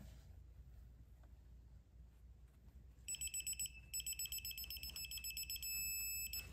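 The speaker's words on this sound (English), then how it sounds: "I don't know if you can hear that beep, but it is telling me that I've torqued it" Low background rumble, then a torque wrench's rapid high-pitched electronic beeps begin partway through, repeating in quick pulses before ending in a longer tone as it reaches set torque during a Stihl MS 660 chainsaw clutch reassembly.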